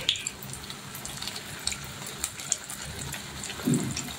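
Potato chicken kababs fry in hot oil in a frying pan, a steady close sizzle and crackle with brief louder spatters and a bubbling burst near the end.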